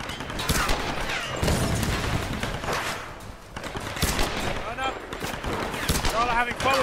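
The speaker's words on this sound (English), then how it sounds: "having fun with machine guns, aren't you?" Machine gun fire in Tomb Raider, repeated bursts of shots in uneven clusters, moderately loud, interleaved with voices and other game effects.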